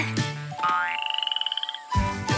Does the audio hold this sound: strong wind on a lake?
no